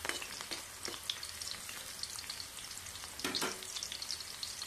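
Garlic fries in a pan with a dense, steady crackling sizzle, broken by occasional stirring scrapes, heard close with no talk.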